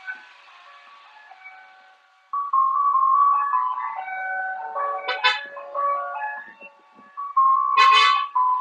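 An ice cream truck's electronic jingle plays near a park, a looping melody of bright tones that swells loud and close, fades briefly, then returns strongly, with no talk over it.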